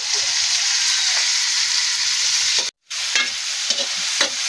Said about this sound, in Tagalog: Durog-durogin ko lang muna ito mga mima bago natin ihulog yung ating isda.